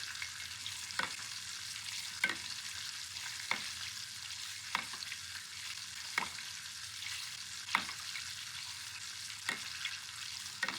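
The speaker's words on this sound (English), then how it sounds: "So crank up the gas and get that ladle in there and start basting away." Whole fish deep frying in hot oil on high gas, with a steady broadband sizzle and regular ladle strokes basting it roughly every second or two, close and moderately quiet, no talking.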